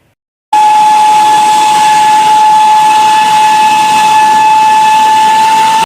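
Geothermal steam vents at Kamojang crater, bursting in abruptly and then holding as a loud, steady hiss with a sustained whistling tone, unbroken to the end.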